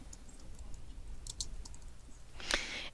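Soft computer keyboard typing comes in sparse, light clicks, with a brief, sharper burst of keystrokes near the end, all faint and close.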